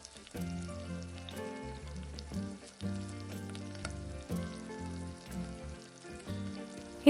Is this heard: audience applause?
no